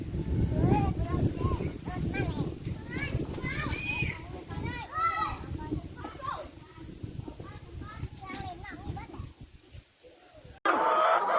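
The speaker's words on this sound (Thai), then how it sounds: "แล้วนี่ไก่เขากำลังกินแซ่บๆเลย" Chickens cluck softly while eating in a rural Thai yard, their calls scattered through a busy scene with children playing and adults talking over them at close range.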